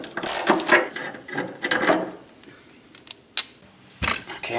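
Ratchet wrench clicking in quick bursts of pawl ratcheting while loosening 13 mm bolts on the Rambar of a 2022 Ram TRX, close and distinct, with short pauses and a sharp metallic knock between strokes.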